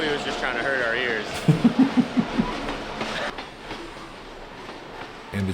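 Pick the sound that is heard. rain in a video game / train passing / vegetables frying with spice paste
train passing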